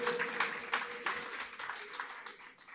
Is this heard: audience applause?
yes